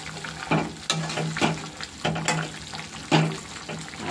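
Half a fish, added to a pan with garlic, sizzles and bubbles in the liquid, broken by repeated stirring and scraping clatters at close range.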